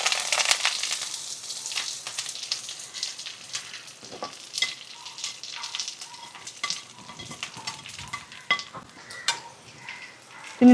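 Greens tossed into hot coconut oil with mustard seeds, dried red chillies and curry leaves, a busy crackling sizzle with scattered pops and occasional spoon scrapes against the pan.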